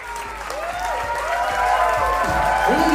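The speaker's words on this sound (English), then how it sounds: "a big round of applause for the Groom's brother this evening" A wedding evening crowd gives a big round of applause for the groom's brother, steady loud clapping that swells and grows fuller, with some cheering and tonal music underneath.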